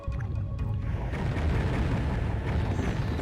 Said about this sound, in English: I love that explosion sound effect.